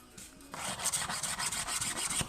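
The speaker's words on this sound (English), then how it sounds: "I just take the file on that and just dress it up" A hand file rasping along the edge of a laminate worktop edging strip to dress it up, a short run of quick repeated strokes, close and fairly loud with no talk.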